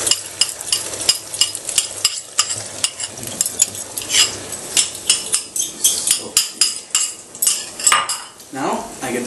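A spatula scrapes and clatters rhythmically in a hot pan as prepared food is stirred and tossed, with repeated sharp metallic knocks over a faint sizzle, close and loud.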